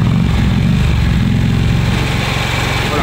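A Harley-Davidson Nightster RH975 motorcycle with a legal JMCA/Euro-compliant exhaust muffler runs at steady revs, a loud, close, throbbing engine note that eases slightly toward the end.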